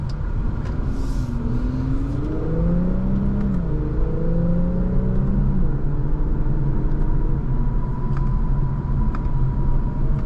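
A 2023 Infiniti Q50 Red Sport 400 AWD accelerates hard in Sport Plus mode, its engine note climbing steadily with clear gear shifts, heard from inside the cabin as a continuous loud rumble and whir without talk.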